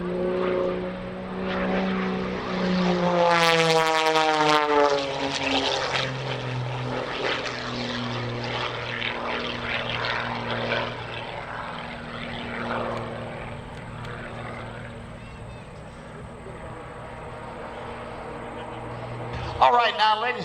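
A propeller aerobatic airplane flown by Michael Wiskus passes at the 2020 New York International Air Show, its engine roaring with rising and falling whines. A loudspeaker voice talks over it at times.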